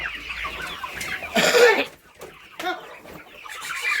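Free-range village chickens and roosters at a desi poultry farm cluck and squawk close by, a few loud bursts of calls over a quiet yard background.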